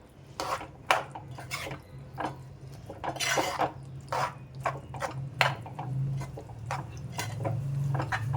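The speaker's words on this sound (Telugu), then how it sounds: "ఇలా తిప్పుకోవాలి" A spoon stirs tamarind-leaf and dried fish curry in a pan, making repeated scraping clinks and wet knocks in an irregular rhythm over a low, steady stovetop hum.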